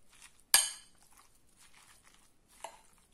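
Chinese cabbage salad with sesame dressing being tossed with utensils in a bowl, one sharp clink of metal against the dish, soft rustling of leaves, and a second lighter clink near the end.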